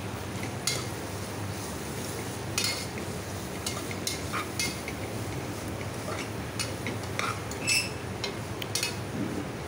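Mint and coriander leaves are sautéed in a pan for nonbu kanji, a steady soft sizzle under repeated sharp spatula clinks and scrapes scattered through the clip.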